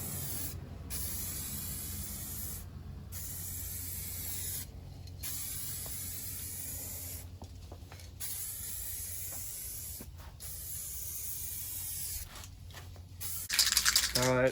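Two-part clear coat sprayed from an aerosol can onto a 1985 C4 Corvette front end, a steady close hiss broken by several short pauses, with a rattle at the very end.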